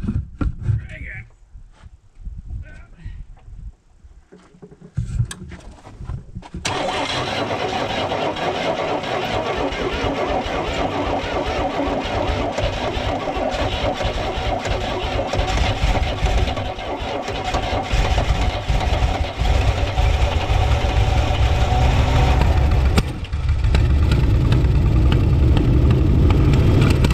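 A 1982 Pontiac Firebird engine, parked in a field since 1993, cranks in short irregular bursts, then catches and runs loudly at a rough steady idle that rises near the end. Voices are heard faintly during the cranking.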